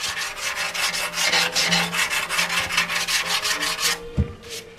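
Hand sanding of FZR motorcycle bodywork during a restoration, rapid rhythmic back-and-forth rasping strokes, close and steady for about four seconds before a brief knock and pause.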